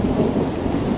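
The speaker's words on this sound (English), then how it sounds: "Clap of thunder. It explodes right over the top." A clap of thunder explodes directly overhead in a storm, a loud, dense, rolling rumble mixed with heavy rain that fills the whole moment without any voices.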